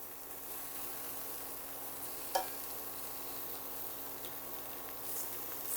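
Pieces of food sear in a very hot pan, a steady, quiet sizzle with faint hum and one brief clink partway through.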